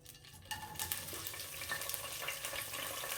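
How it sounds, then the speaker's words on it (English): Onions frying in hot oil crackle and sizzle steadily at low level, with faint stirring and a busy, watery hiss throughout. "my oil is hot already, so I will just put in my onions"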